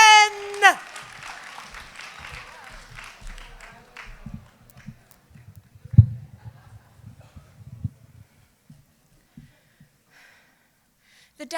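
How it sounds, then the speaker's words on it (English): An audience at a high school spoken word poetry event applauds in a short burst of clapping at the start, then the room falls to scattered faint noises, shuffling and a few isolated sounds. "Keep that applause going."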